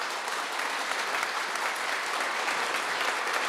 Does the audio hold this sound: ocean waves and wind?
no